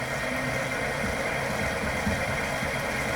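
A wood lathe spins steadily at 530 RPM, a continuous close machine hum with a low rumble and broadband whir, unbroken and without talk.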